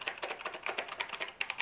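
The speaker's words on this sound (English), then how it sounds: "These blues are just the clickiest blues I've ever had in my life." Fast, crisp clicking keystrokes on a HAVIT HV-KB366L RGB backlit wired mechanical keyboard with clicky blue switches, loud and close in a steady rapid patter.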